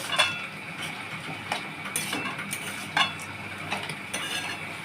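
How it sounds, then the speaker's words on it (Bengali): A utensil stirs red amaranth greens frying with coconut, peanuts and bori in a pan, giving light rhythmic scraping taps over a soft steady sizzle, close and quiet. "আচ্ছা এটা এবার নাড়তে থাকবো আমি"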